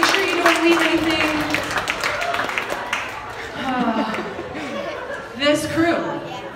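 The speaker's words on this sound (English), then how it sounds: "Give him a round of applause." Audience at a hypnotist's stage show claps and chuckles, scattered applause mixed with laughter and chatter, with voices talking over it and a louder burst near the end.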